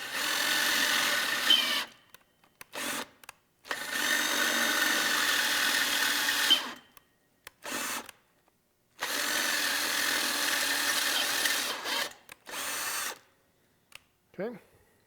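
A power drill boring a series of holes, whining steadily in several sustained bursts of a few seconds each, separated by silent pauses, loud and close, with a brief voice near the end.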